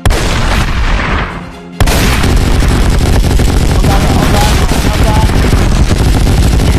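Shotgun fire in the shooter game Madness Project Nexus 2, a dense, loud stream of booming blasts that drops away briefly near the start and then hammers on without pause.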